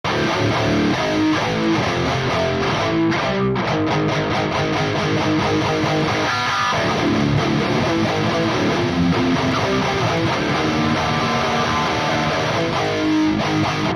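A distorted high-gain electric guitar plays a continuous driving rhythm through a Neural DSP Soldano SLO 100 amp, loud and dense throughout.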